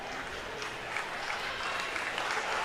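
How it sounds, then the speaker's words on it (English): A home crowd at a junior lacrosse game gives a round of applause, a steady wash of clapping at moderate distance that holds for a few seconds. "he gets a round of applause from the home crowd here"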